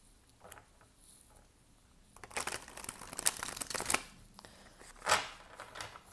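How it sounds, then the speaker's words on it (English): Tarot cards being ruffle-shuffled, a papery crinkling riffle that starts softly, grows busier with a run of quick dense flutters, and ends in a sharp burst near the close. "I feel like they need another ruffle shuffle."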